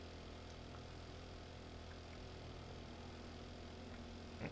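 Steady low engine idle of a motorbike in the survival video game 7 Days To Die, a continuous even rumble at moderate level with no talking.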